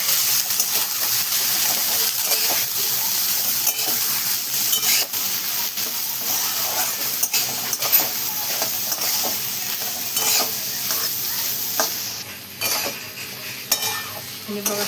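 Cluster beans (guar) tossed and stirred in a pan with a reddened spice mixture, giving a constant close sizzle with frequent metal spoon scrapes and clinks against the pan and no voices.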